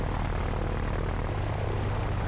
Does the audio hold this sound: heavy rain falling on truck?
no